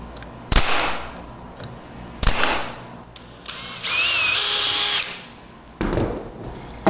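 A power drill whirs in several short bursts, with a longer winding run in the middle as 2.5-inch construction screws drive into pine, separated by brief pauses.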